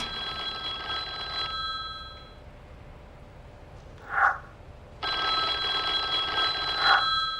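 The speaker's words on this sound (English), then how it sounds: "Where is this 1920s phone?" A 1920s-style telephone in The Da Vinci Code PS2 game rings in two bursts of steady bell trilling, separated by a quiet gap with a single faint chirp, heard alone without talk.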